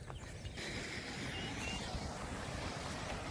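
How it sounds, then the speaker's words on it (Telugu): A waterfall deep in dense forest gives a steady, broad rushing roar, heard continuously and fairly evenly with no voices over it. "ఈ దట్టమైన అడవిలో మనకు మంచి వాటర్ ఫాల్స్ ఉంటుంది అనమాట."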